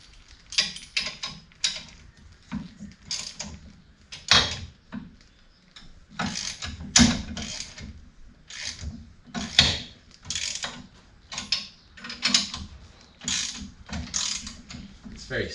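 Spring compressors being slowly backed off on a Holden Commodore V8 strut, repeated ratcheting clicks in irregular bursts with pauses between, close and fairly quiet.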